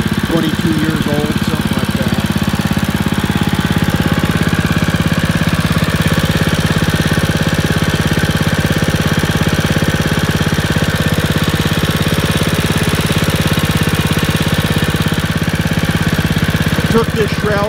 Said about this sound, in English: Here's the mower.